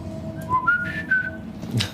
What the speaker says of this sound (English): And then I whistle.